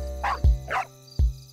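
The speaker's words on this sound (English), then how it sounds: "There's a dog barking there." A dog barks outside a washerman's house, giving two sharp close barks about three-quarters of a second apart with short breathy whines between them, heard alone without speech.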